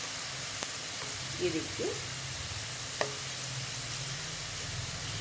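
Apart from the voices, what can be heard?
chana dal frying in oil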